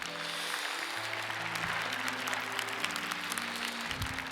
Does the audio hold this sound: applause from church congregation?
yes